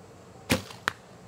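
An arrow shot from a bow strikes a plastic target during a casual archery competition: a sharp thwack followed a moment later by a second brief, bright crack, both close and loud against a quiet background.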